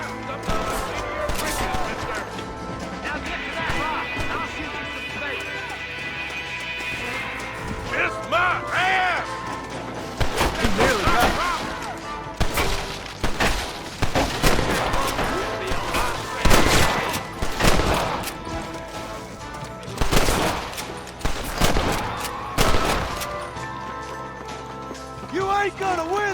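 Repeated gunfire in the Red Dead Redemption western shootout, with volleys of rifle and pistol shots, some rapid bursts, loud and near, mixed with game music and voices talking over the action.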